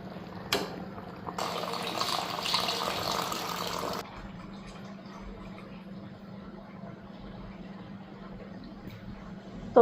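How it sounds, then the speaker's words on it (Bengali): Water being poured into a household water filter, a brief splash followed by a steady rushing pour for a couple of seconds, then quieter trickling and a faint hum in a home kitchen. "তো ওইদিকে ফিল্টারও জল দিয়ে দিলাম।"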